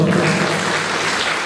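An audience at a Haldi-Kumkum community ceremony in Pen claps in tribute on a memorial anniversary, a dense steady wash of applause that is fairly loud and continuous throughout.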